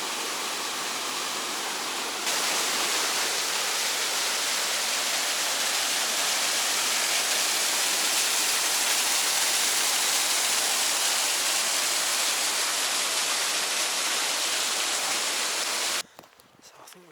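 Lower Falls in the Scottish Highlands roars as a steady, dense rush of falling water that grows louder after a couple of seconds, then drops away suddenly near the end.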